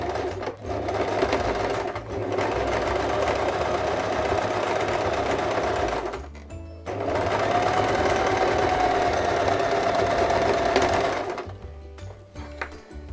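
A sewing machine runs steadily along the long side of a small zippered crossbody bag, in two extended bursts broken by a short pause, then falls quiet near the end.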